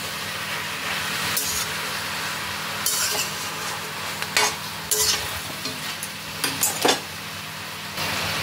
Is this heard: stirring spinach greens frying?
yes